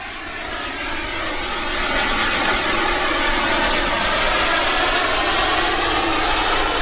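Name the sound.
Freewing Zeus 45NT RC turbine sport jet flying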